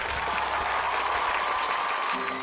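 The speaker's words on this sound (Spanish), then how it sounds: "creo que también es necesario despedirlo con fuertes aplausos." Studio audience applause fills the moment as a Nobel Prize-winning scientist is sent off, a steady dense clapping that holds at even loudness throughout.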